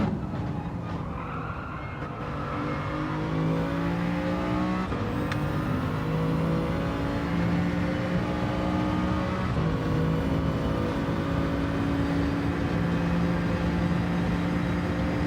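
A BMW VGT race car engine in a racing video game drones steadily for the whole stretch, its pitch rising and falling through gear changes, with other cars' engines whirring in the mix and a brief skid.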